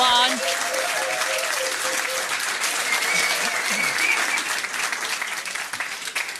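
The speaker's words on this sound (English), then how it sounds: "Give them a round of applause." Audience applause fills the room at a charity trivia quiz held at Highfield Academy, a dense, steady clapping that lasts throughout and fades slightly at the end, with voices heard over it.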